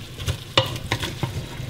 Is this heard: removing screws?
no